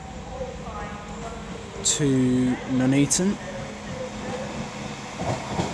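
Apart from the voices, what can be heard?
West Midlands Railway 196007 train arriving at Coventry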